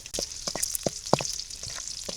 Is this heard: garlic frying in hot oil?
yes